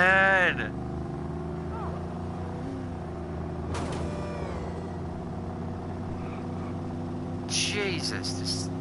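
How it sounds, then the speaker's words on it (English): A muscle car engine in the video game Watch Dogs revs with a steady drone and bursts of acceleration, a player talking over it, with a couple of sharper high-pitched squeals. "this sounds like a really fast muscle car"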